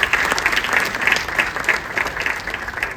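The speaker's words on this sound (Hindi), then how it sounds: "मैं चाहती हूँ एक जोरदार ताली उनके लिए" Applause from a live audience at a stage event, dense clapping holding steady and loud for the whole stretch with no voices rising above it.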